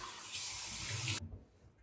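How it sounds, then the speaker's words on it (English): Water runs steadily from a bathroom sink tap during a face rinse in a skincare routine, a close hiss lasting about a second before cutting off abruptly. "And then I rinse off my face."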